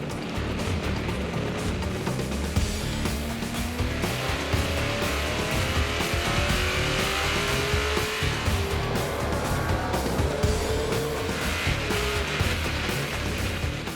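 NASCAR race cars roaring at the start of a race on a road course with a chicane, a dense sustained engine drone with rising pitch sweeps as the pack accelerates, steady and loud throughout.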